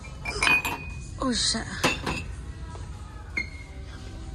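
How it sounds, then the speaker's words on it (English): Small glass espresso shot glasses clink and rattle against each other in a few close, bright bursts, with a short exclaimed remark from a voice partway through. "Look, another little espresso shot glass."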